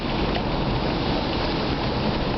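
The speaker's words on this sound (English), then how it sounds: "Hopefully you can hear me with all that wind and rain out there." Wind and rain outside a taxi at night, a steady broadband wash of gusting air and falling rain that fills the whole clip with no voices.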